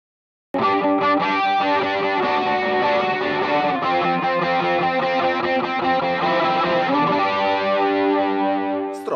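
Electric guitar intro played through a Morningstar MC6 Pro-controlled pedalboard, heavily processed with distortion and chorus-like effects, a dense sustained chordal wall running continuously and loud, alone without talk.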